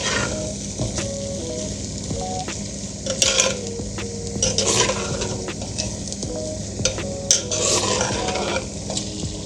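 Minced meat (keema) for a keema karela dish fries noisily in a pan and is stirred steadily, with repeated scraping and clinking of a spoon against the metal over a constant sizzle, close up and without talk.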